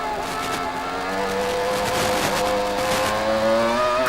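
Formula 1 cars of the 2000 season roar away from a race start, a dense layered engine wail with several rising pitches building steadily and loudly over four seconds, with no talk.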